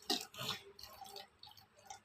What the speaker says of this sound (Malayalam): അത് ഞാൻ കുറച്ചും കൂടി വെള്ളം ഒഴിക്കുന്നത്.